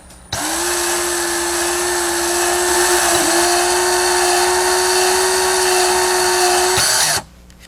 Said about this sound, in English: take our drill and give it several rotations along the wires